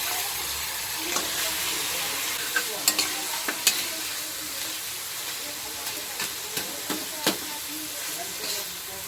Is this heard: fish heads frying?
yes